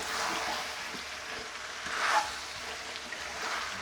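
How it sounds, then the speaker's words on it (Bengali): Spice paste for kasha alur dam potato curry fries and is stirred in a pan, a continuous soft sizzle with a slight swell in the middle and no talk. "খুব ভালো করে কষে নিচ্ছি"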